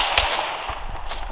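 Gunfire in Apex Legends: a fast run of sharp cracks and bangs, loud and close, one burst standing out above dense crackling.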